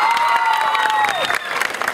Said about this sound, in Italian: Quindi fatemi un applauso